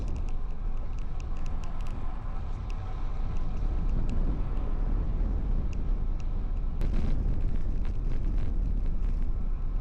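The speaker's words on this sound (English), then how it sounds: "Now the wind's picking up." Strong wind rumbles and buffets the microphone during a cold night bike ride on Pennsylvania roads. The roar is loud and constant, with faint clicks and rattles mixed in.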